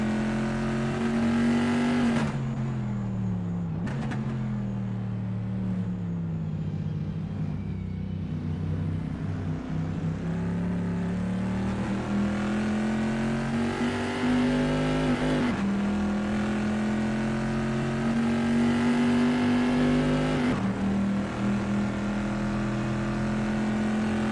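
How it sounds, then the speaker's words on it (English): Vintage pre-1973 Bizzarini race car driving through the Piratella section at Imola: a loud, sustained engine drone that dips and climbs with gear changes and throttle, close and continuous, with no talk. "Darren O'Mara is expertly commanding that car through Piratella"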